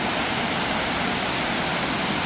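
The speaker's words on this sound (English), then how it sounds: "Here's the waterfall at Keystone Lake in Westmoreland County." Waterfall at Keystone Lake in Westmoreland County, a steady, broad rushing roar of falling water, constant and fairly close, with no voices.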